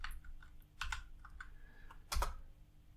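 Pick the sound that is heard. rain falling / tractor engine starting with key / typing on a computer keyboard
typing on a computer keyboard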